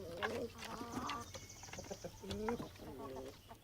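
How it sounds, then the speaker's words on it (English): Domestic chickens, descended from red jungle fowl, cluck and call in a farmyard, with short repeated vocalizations at moderate volume over a steady low background hum. "And so, the domestic chicken was born."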